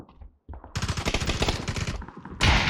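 Rapid gunfire from PUBG: Battlegrounds crackles in quick bursts, starting after a brief near-silence, then a dense volley and a final loud burst at the end.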